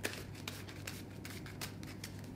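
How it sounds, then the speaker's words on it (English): A deck of trading cards for the Buddyfight card game is shuffled during a tournament match, giving a steady run of soft riffling flicks and snaps across the whole moment, close by with no talk. "Shuffle."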